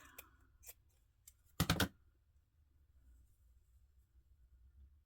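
Scissors cut collaged phone book pages into butterfly tags in a quiet room, giving a few faint snips and then one close, loud crisp cut lasting about a quarter second, followed by stillness.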